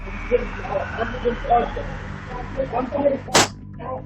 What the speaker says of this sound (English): The first gunshot heard in the background is fired